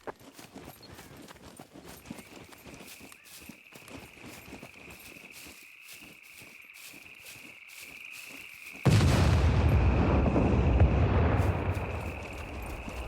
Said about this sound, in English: C4, which people can get from doing kill boxes or farming puppets, things like that, will take down walls pretty easily